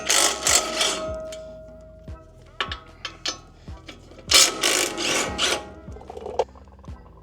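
Socket ratchet clicking as it loosens the lower strut bolts on a 2024 Ford F150 Tremor, with short bursts of rapid clicks between metallic clanks and knocks of the tool, close and fairly loud.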